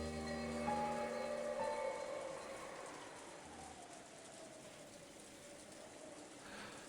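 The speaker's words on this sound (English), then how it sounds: "you couldn't ignore the sound of the rain sneaking into the dining hall" Steady rain sound effect from the Umineko visual novel, a soft even hiss of falling rain running throughout, with a faint tonal music line fading out early on.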